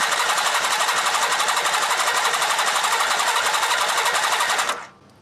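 A 1983 Honda Nighthawk motorcycle engine cranks on the starter during a compression check, a loud, rapid, even chugging that holds steady for nearly five seconds and then cuts off abruptly.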